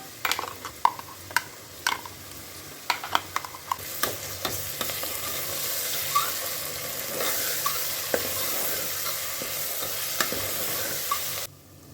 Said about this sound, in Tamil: இது கூட நம்ம அரைச்ச பேஸ்ட்டை சேர்த்து நல்லா எண்ணெய் பிரிஞ்சு வர அளவுக்கு வதக்கிக்கலாம்